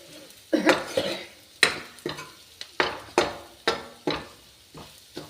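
A spoon stirring turmeric, coriander powder and roasted cumin in a cooking pot, about ten rhythmic scraping strokes against the metal with soft sizzling between them, close and clear with no talking.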